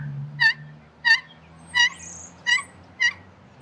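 Slate turkey call worked with firm pressure into a louder, aggressive yelp: five sharp, evenly spaced, raspy notes about two-thirds of a second apart, close and clear over a faint low background hum.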